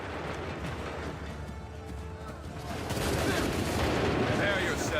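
A musket volley in the video game Assassin's Creed 3 during a battle, a dense crackle of gunfire that swells louder midway and holds, with shouted commands mixed into the noise.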